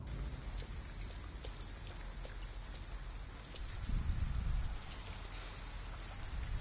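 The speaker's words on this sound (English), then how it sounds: "At least we'd be out of the rain." Steady rain pours down in the Detroit: Become Human video game, a continuous hiss of drops on surfaces with a brief low rumble swelling midway, heard alone without voices.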